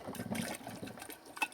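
Lipton Extra Noodle Real Chicken Flavor soup pours from a coffee pot, a soft, close splashing trickle with small uneven gurgles, fairly faint.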